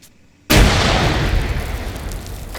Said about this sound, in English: Multiple grenades going in.